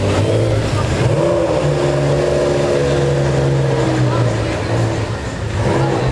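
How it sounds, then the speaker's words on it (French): A car with a worn-out, slipping clutch holds a sustained, loud engine rev at a car meet, the pitch rising and falling slightly as the engine drones on continuously, with voices audible underneath. "même ma grand-mère elle fait pas autant patiner l'embrayage hein"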